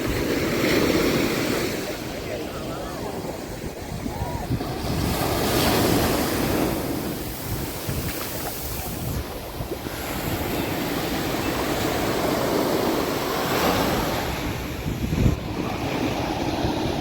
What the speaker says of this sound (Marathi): आता वारा थोडा जास्त येत चाललाय.